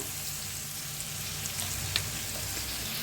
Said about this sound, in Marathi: आपण घेवडा भाजून घेतला होता ते ह्याच्यात मिक्स करूया।